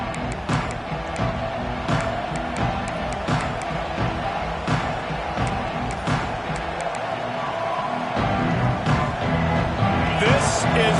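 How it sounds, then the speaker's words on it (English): A football stadium crowd roars and murmurs steadily in the background, swelling toward the end, while a commentator talks over it. "This crowd ready to make its presence known."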